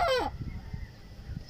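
A loud farm fowl call at a riverside farm, a short honking squawk at the very start, then quieter scattered clucks and low rustling.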